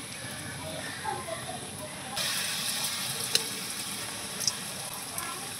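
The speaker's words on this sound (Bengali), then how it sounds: "এই রোলটা মাখিয়ে এবার তেলে ভাজতে হবে।" Flour snack rolls fry in hot oil, giving a steady soft sizzle and hiss that grows a little denser partway through, with a few sharp pops and crackles.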